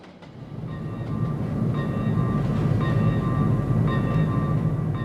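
A P2 electric locomotive hauling a passenger train rumbles steadily past at close range, a heavy low drone with rising intensity and faint high whines from the locomotive.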